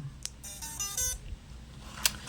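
A homemade mini Bluetooth speaker plays its power-on sound, a short sequence of electronic tones and beeps rising in steps, followed by a brief sharp blip about a second later.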